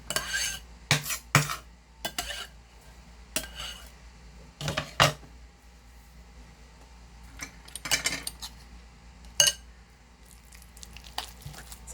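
A spoon stirs oatmeal bread batter with mashed banana in a bowl, producing scattered clinks and scraping knocks against the bowl in irregular bursts, close and moderately loud, with a faint background hum.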